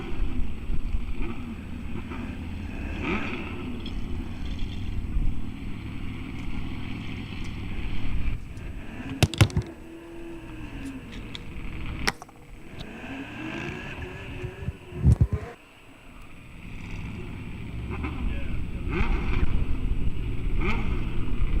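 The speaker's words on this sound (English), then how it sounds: "Another ZL1 Camaro on the starting line." A ZL1 Camaro drag car sits at the starting line of a 1/8-mile heads-up drag race, its engine rumbling steadily with a few sharp revs and bursts amid outdoor wind and distant track noise.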